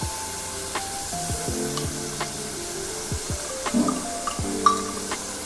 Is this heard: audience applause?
no